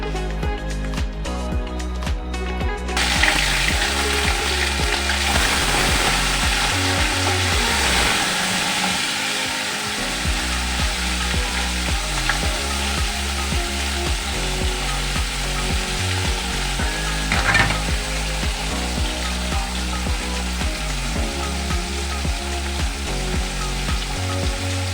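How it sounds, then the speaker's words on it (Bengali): Small fish rubbed with salt and turmeric fry in a wok for a sweet-sour fish dish, giving a loud, steady, continuous sizzle with no talking. "দিয়ে মেখে ভেজে নেবো মাছটাকে।"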